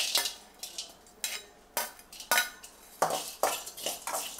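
Cinnamon bark is dry-roasted in a hot kadai for masala chai powder, with a spatula scraping and clinking against the metal in a steady rhythm about every half second and no sizzle.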